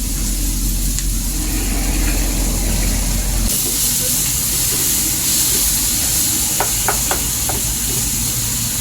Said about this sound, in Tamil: தேவையான மஞ்சள்தூள், பச்சை வாசம் போகிற வரைக்கும் வதக்கிக்கோங்க.